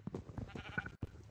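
Sheep bleating in a short burst, a couple of wavering calls close by, brief and moderately loud.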